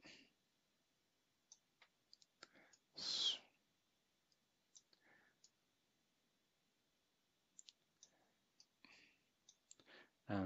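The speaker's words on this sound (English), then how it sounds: "Click." Sharp mouse clicks while working in FlexSim simulation software, several isolated ticks spread across a quiet background with a few brief louder bursts.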